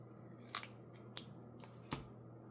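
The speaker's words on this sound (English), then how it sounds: "I'll just cut a little bit of this off." Scissors snip a small piece off paper in a few sharp, separate cuts with pauses between, close and fairly quiet over a low steady hum.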